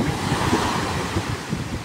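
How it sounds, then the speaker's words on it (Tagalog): Steady wind gusts rush across the microphone, a broad blustery roar with surf-like swells and no voices. "Medyo mahangin ngayon."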